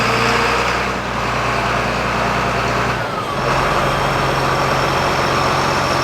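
A truck backs slowly up onto the tail of a trailer at a frac tank site, its engine a steady, loud, close drone that dips briefly around the middle before resuming.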